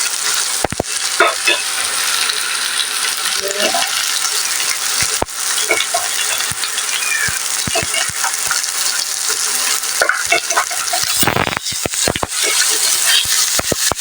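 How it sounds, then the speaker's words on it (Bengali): Pumpkin leaf mixture with dried fish, salt and turmeric fries in a pan with a loud, dense, continuous sizzle, punctuated by sharp clicks and knocks of a spatula against the pan, with no voices. "আর এটাকে ভাজবো নুন আর হলদি দিয়ে।"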